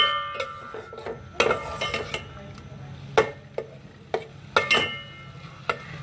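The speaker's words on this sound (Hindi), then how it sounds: "अब मैं आपको ये मसाला अच्छी तरीके से भून के दिखाती हूँ।" Masala is stirred and fried in a pot for beef dal gosht, with repeated metallic spoon scrapes and clanks against the pot over a low sizzle, irregular and close.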